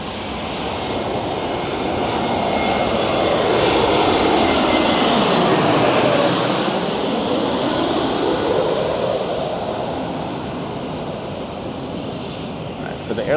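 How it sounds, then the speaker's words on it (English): A Delta Airbus A321neo jet passes at LAX airport, its engine roar swelling to a loud peak overhead with a falling whine, then easing back while still clearly audible. "it looks like we got a Delta A321neo up first"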